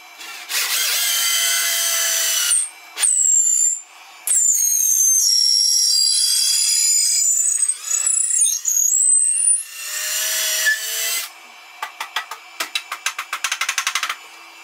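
Drill boring a hole through ginkgo wood, loud whining bursts with pauses between them, then a run of rapid short scraping strokes at the end.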